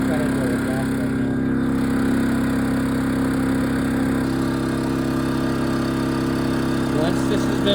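A Wen 3600 generator running on propane hums at a steady idle with a low, even engine drone, close and constant with no change in pitch.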